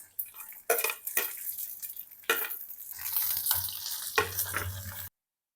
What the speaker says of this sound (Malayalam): ചെറിയുള്ളി ഒന്ന് ബ്രൗൺ നിറമാവുന്നത് വരെ നമുക്കൊന്ന് ഇളക്കി കൊടുക്കാവുന്നതാണ്